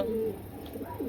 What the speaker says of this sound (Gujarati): પંજાબી કબૂતર છે